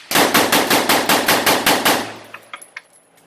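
An AR-15 .223 rifle fires a rapid string of about ten sharp, loud shots in even rhythm, then goes quiet as a few faint metallic clicks and clinks follow.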